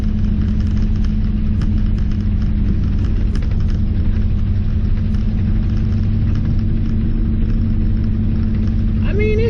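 Truck engine runs steadily in a loud, continuous low rumble while a rubber-edged plow works through slush, heard from close by.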